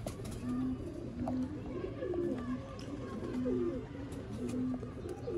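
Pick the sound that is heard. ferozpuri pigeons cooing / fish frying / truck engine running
ferozpuri pigeons cooing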